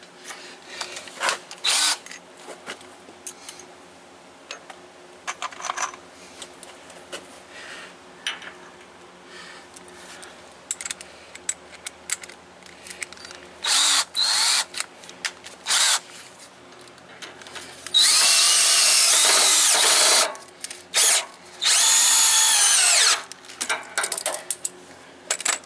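A power drill bores into white pine at a Wood-Mizer LT15 sawmill. Short, stuttering whirs come first, then longer, loud, sustained grinding bursts near the end, with no talking.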